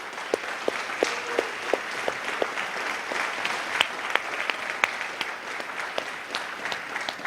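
A seated audience at a State of the University event gives a round of applause, individual claps standing out sharply against a softer wash of clapping, fairly distant and moderate in level.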